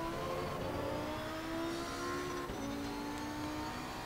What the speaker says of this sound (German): Voll durchbeschleunigen, hoch bis in den fünften.